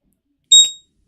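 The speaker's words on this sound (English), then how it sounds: "It's probably an alarm that I put on the chart on my phone." A phone's charting-app price alert on a Bitcoin chart sounds one short electronic beep, a bright two-tone chirp that ends sharply in otherwise quiet surroundings.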